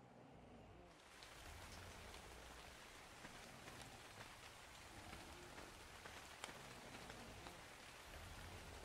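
Steady rain pours down in the video game Ark, a dense, even hiss with scattered drop ticks that holds from start to end without a break, with no voices over it.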